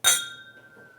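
Whiskey glasses clink once in a toast at a bar, a bright sharp chime that rings on and fades slowly, close by and alone.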